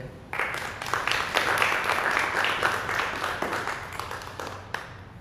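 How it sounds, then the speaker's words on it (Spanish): An audience at a live political forum in Oaxaca applauds, a burst of clapping that starts abruptly and holds steadily before tapering off over several seconds, moderately close. "pido un fuerte aplauso, por favor"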